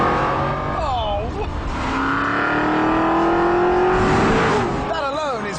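An Aston Martin V8 Vantage Roadster's 380-horsepower V8 engine revs up with a rising, throaty roar, swelling loud and close, while someone talks over it.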